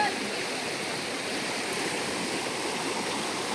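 Strong river current pours past in rainy weather, a loud, unbroken rushing hiss that holds level throughout with no voices over it.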